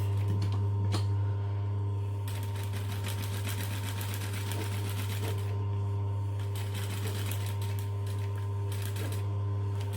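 A sewing machine runs steadily, stitching satin fabric for a sleep eye mask, with a constant motor hum and rapid needle chatter. It pauses briefly a few times and then carries on close up, with no voices.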